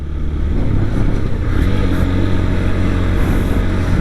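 A 2022 TVS Apache RTR 160 4V Special Edition motorcycle being ridden, its engine giving a steady, loud, close drone with a low throbbing rumble and mild rises in pitch.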